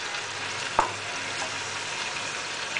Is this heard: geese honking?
no